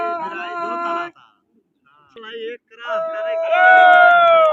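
Pigeons cooing and taking flight during a pigeon-flying contest, with tonal calls rising in bursts, a short quiet gap, then a stronger sustained call near the end, fairly close and loud.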